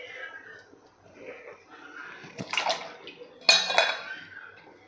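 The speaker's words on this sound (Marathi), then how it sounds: "पाण्याला चांगली उकळी आलेली आहे आणि यामध्ये आपल्याला घालून घ्यायचा आहे जो आपण किसलेला बटाटा आहे तो" Grated potato tipped into a pot of boiling water, making two close, splashy bursts of pouring and bubbling with a clink of a utensil against the pot, over a quiet simmer.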